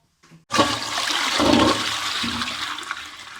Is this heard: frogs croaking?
no